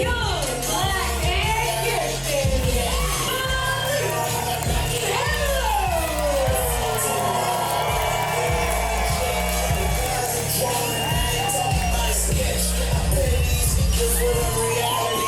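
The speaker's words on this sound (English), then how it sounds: "I think it's safe to say we know who the Boomiverse is cheering for in this one" Pro wrestling crowd at a BOOM! Pro Wrestling event cheering for Malik Melo: sustained loud roaring, whooping and shouting from a large audience, with rising chant-like cries, continuous throughout with a thumping low pulse underneath.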